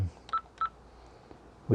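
Telephone keypad tones from a small big-button phone system: two short beeps spaced apart, fairly quiet, followed by a brief thump of handling.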